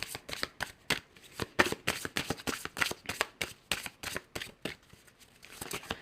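Tarot cards being shuffled by hand, a close, crisp flurry of rapid riffling snaps and slides in uneven bursts that continue without pause, with no talking.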